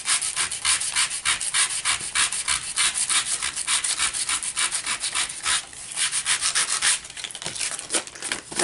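Sandpaper rubs steadily across a paper junk mail envelope to wear off printed words, a close, continuous scratchy back-and-forth rasp in quick regular strokes lasting several seconds.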